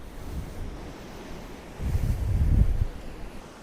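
Ocean surf on the Gangwon coast rolls and rumbles steadily with wind noise on the microphone, swelling into a louder wave crash midway before easing back.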